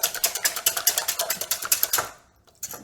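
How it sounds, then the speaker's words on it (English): Eggs and sour cream whisked briskly in a bowl, a fast, even run of close clicking strokes for about two seconds, then a pause and one last tap. "And I really want to whisk this"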